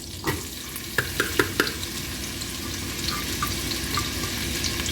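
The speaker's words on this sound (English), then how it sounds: "All right, so my butter has melted. So now let me go ahead and throw my onions in." Onions hit melted butter in a pot for broccoli cheddar soup: a few quick knocks and clatters as they drop in, then an even, close frying sizzle.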